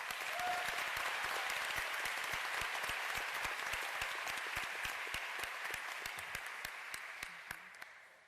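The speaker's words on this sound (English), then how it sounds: "Can we give Dr. Palermo one more round of applause?" A graduation audience at Bossier Parish Community College gives a faint, distant round of applause, a steady wash of many hands that tapers off toward the end.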